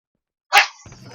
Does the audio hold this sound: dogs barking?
yes